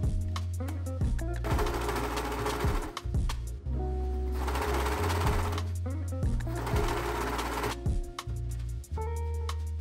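A serger runs a test seam on a garment neckline in several rapid, buzzing bursts with brief stops in between, loud and close with no talking.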